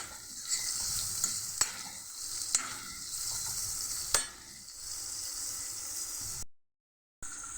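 Onions fry in a pan with a steady, bright sizzle, broken by a few sharp clicks of a spoon stirring, close and continuous, ending in a brief cut to silence.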